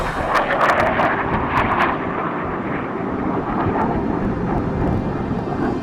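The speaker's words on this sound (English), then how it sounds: "As soon as we heard the jet and pointed our cameras at it, it was gone." Jet aircraft roaring past over a Death Valley canyon, a loud broadband rush that peaks early then holds as a steady, sustained roar with wind noise, no voices.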